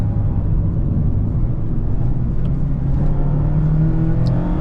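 Engine of a 2026 Mazda MX-5 GT with manual gearbox, a steady, loud drone from the cabin that holds throughout, rising gently as it revs toward the 7,000 RPM redline, with no talking over it.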